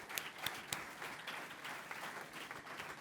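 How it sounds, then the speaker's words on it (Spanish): Audience applause at a Spanish panel event on sexism in sport, a soft, steady wash of clapping with a few sharper claps, fairly distant and even throughout. "Yo creo que se merecen un súper aplauso,"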